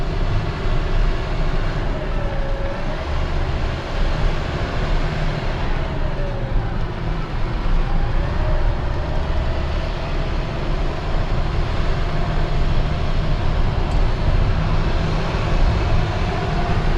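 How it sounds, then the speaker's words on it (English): A motorhome's 450 horsepower Cummins diesel engine rumbles while poking along slowly, a steady loud low drone with road noise, continuous and unbroken. "So that's what 450 horsepower of Cummins diesel sounds like when it's just poking along."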